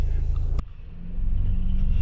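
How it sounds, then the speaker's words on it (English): An R56 Mini engine warming up at idle gives a steady low rumble. A sharp click interrupts it, then the idle settles back to an even drone close to the microphone. "So I'm gonna warm up the car right now"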